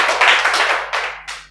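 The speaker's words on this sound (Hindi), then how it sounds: "ताली बजाओ भाई इनके लिए" A small group claps for a student during a maths class, a short burst of quick hand claps that thins out into two separate final claps.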